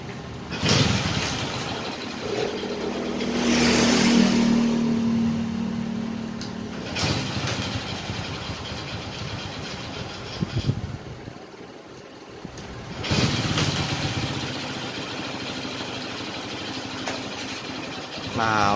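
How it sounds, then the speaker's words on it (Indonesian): A Honda Karisma motorcycle, just repaired with lapped valves, starts and settles into a steady idle, its engine rumble continuous with louder surges and brief dips, recorded close up. "jadi motornya sudah hidup"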